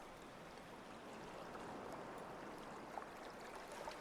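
Whispering Creek stream ambience from the video game Daggerfall Unity, a soft, continuous rushing wash of flowing water, steady and moderately quiet with no voices.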